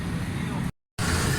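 A Suzuki Mehran car engine runs steadily after its carburetor is fitted and timing is set, with a high butterfly fault. It gives a continuous low rumble, broken by a short gap of silence, and a voice talks over it.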